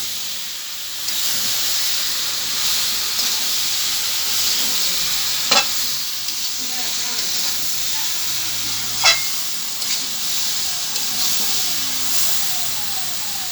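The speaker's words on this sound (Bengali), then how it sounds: "নুন হলুদ দেওয়া হয়ে গেল। ভালো করে একটু নাড়িয়ে নেবে।" Sweet mango pickle with salt and turmeric is stirred in a pan over a constant hissing sizzle, with two sharp spoon clinks partway through. No talk is heard.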